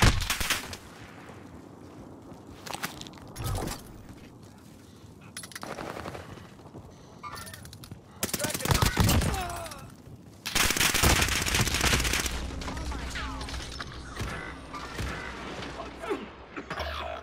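Video game gunfire comes in repeated bursts, with loud rapid volleys separated by quieter stretches, mixed with mechanical clicks and creaks near the listener.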